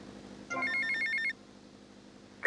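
A payphone rings in the video game GTA Vice City: one short electronic trill of rapid repeated bell tones, followed by quiet game ambience and a brief sharp sound at the very end.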